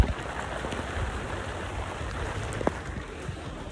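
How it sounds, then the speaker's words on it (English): A light, brief rain shower falls outdoors during mulch work at a church, a steady soft hiss of drops that spreads evenly across the whole stretch, heard close and alone with no talking. "Just like that, guys, not even 10 minutes and the rain to stop. Quick little shower."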